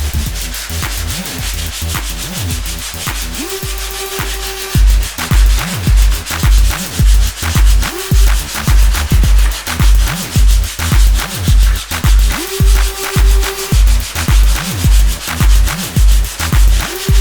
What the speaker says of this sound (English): you need to sand it with some 80 grit dry sandpaper and use a block.